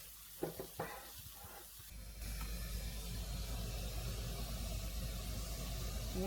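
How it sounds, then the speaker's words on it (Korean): A pot of water comes to a boil for blanching spinach, a steady rolling hiss and bubbling that swells after a few soft knocks and then holds evenly at a moderate level. "이렇게 물이 끓으면"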